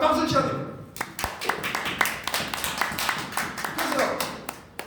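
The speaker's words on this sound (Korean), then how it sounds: "그러니까 박수를 쳐야 돼요" A small crowd claps at a Korean talk, with sharp individual claps scattered irregularly through the stretch, fairly close and loud at first, then thinning out.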